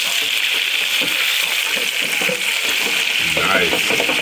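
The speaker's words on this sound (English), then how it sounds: "we're gonna do our double fry. I'm gonna and make them extra crispy, all right? Back in the grease they go." Chicken tenders going back into hot grease for a second fry produce a loud, dense sizzle and bubbling hiss, with faint low murmurs of a voice underneath.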